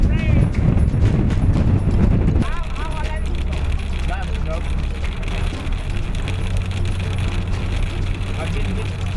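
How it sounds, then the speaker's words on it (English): A horse's hooves clip-clop in a quick, uneven rhythm close by in Lesotho, with a low engine rumble and some voices in the background. "That's my only horse."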